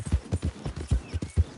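A horse galloping in a PS4 video game, with a rapid, regular run of hoof thuds drumming close and clear, about three beats per half second.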